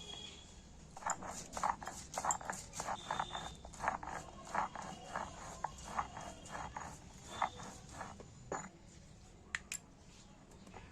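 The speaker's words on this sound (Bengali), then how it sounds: "এক বাটি সাদা সর্ষে আর কালো সর্ষে দুটো সর্ষেকে মিক্সড করে নিয়েছি নিয়ে আমি এক বাটি সর্ষে বেটে নিচ্ছি" A bowl of mixed white and black mustard seeds is ground by hand on a grinding stone, giving a steady run of rhythmic scraping strokes, fairly close and moderately loud, slowing and thinning out toward the end.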